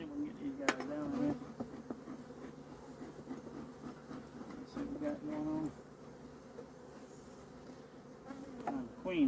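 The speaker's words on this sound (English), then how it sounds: "Ooh, nice box of bees here." Honeybees in an opened hive box during a mid-October colony inspection, a steady dense buzz of many bees close by, with someone talking quietly over it.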